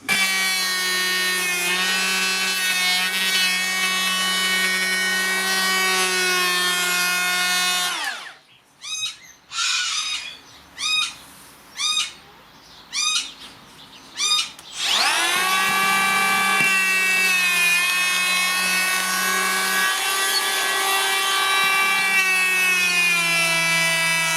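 A cordless 18V electric planer stripping paint off weatherboard wood, a loud high whine running steadily, then five short bursts as it cuts and spins down, before a long continuous run.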